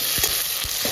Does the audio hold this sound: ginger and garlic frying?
yes